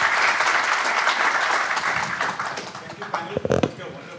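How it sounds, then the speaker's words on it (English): An audience at a Bombay Chamber sustainability panel event applauds the panelists, with dense clapping that thins out toward the end into a few louder, scattered claps, and voices murmur underneath. "A round of applause, please."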